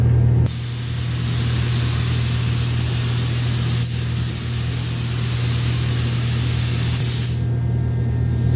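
A Black Widow spray gun lays down a wet second coat of single stage top coat, giving a steady, loud, close hiss that runs almost unbroken, then cuts off near the end.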